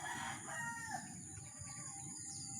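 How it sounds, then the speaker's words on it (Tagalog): Chickens clucking and calling nearby, a few overlapping bird voices against outdoor background noise. "Ayan mga manok natin, nag-aabang."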